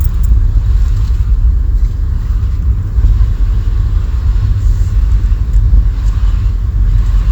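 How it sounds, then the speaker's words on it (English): Steady low roar of road traffic, cars rumbling past continuously with a constant engine and tyre drone, close and loud throughout, with some wind buffeting over the microphone. "There's an awful lot of traffic."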